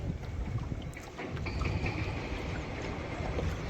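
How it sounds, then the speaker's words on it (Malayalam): A boat ride on a river, with a steady rumbling engine and wash of water over strong wind buffeting the microphone. "നല്ല രസാട്ടോ അതിലുള്ള ബോട്ട് യാത്ര"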